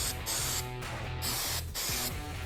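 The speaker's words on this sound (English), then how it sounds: "Spray a bit of activator on the other side." Glue activator sprayed from an aerosol can onto plywood during wine-rack assembly, heard as several short hissing bursts with brief pauses between them over faint background hum.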